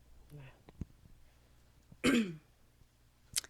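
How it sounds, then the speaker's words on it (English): A single loud, raspy throat clearing close by, preceded by a short vocal sound and followed by a faint click. "I just gotta clear my throat"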